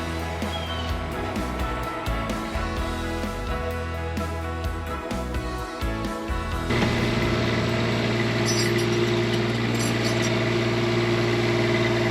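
An RV's onboard generator engine runs steadily at an overnight parking stop, a continuous low mechanical hum with a slight shift in tone partway through, fairly close and with no talk.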